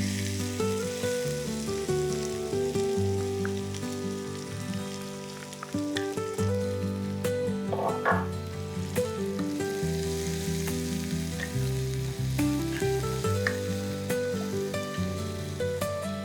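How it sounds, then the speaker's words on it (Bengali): Asafoetida and chopped onion sizzle in hot oil for a spiced okra-in-yogurt dish. A loud, continuous crackling fry runs throughout, close up, with music playing underneath. "তেল গরম হয়ে গেছে এবার আমরা অল্প একটু হিং তেলে ফোড়ন দিয়ে নেব আর আমরা দেবো একে একে পেঁয়াজ কুচি"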